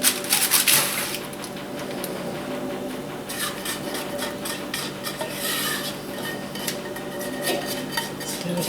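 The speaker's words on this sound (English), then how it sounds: "you just spread out this mixture over the crackers" A utensil spreads Christmas crack mixture over crackers in a pan, producing a steady scraping and rubbing with light clinks of metal against the pan throughout, close and moderately loud.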